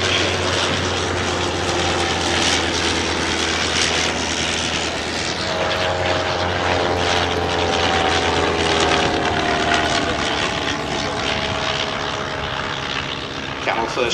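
A Sopwith Camel biplane's rotary engine drones steadily in flight at a military air pageant, loud and continuous throughout with a rising harmonic tone partway through as it passes.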